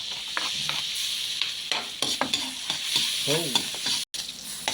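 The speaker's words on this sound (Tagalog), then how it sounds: "Ngayon, siyempre, toast. Unahin natin yung luya." Ginger toasting in hot oil in a pan, a continuous sizzle broken by scraping stirs and light clinks of a utensil, close up, with a brief drop to silence near the end.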